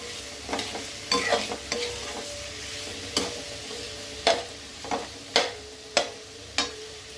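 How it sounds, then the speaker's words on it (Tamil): Onions and tomatoes sauté in a pan, a low sizzle broken by sharp intermittent scrapes and clacks of a spatula stirring, roughly one every half second to second, close by. "அதனால் நம்ம வெங்காயம் தக்காளி சூப்பராக வதங்கிடும்."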